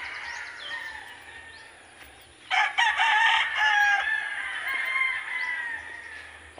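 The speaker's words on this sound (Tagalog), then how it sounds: "At ito naman po yung kanyang mga manok na panabong." Fighting roosters on a farm crow loudly and cluck, with one long, close crow rising sharply in the middle and calls carrying on around it, no talk.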